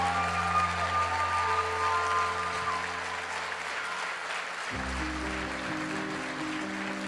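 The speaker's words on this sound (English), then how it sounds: "Give yourself a round of applause." Audience applause at a motivational speaking event, a continuous wash of clapping at steady volume with background music underneath that shifts partway through.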